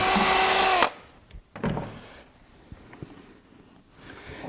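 A power drill bores a hole in wood in a woodworking shop, a loud steady whine for under a second that cuts off abruptly, followed by faint handling knocks and clicks.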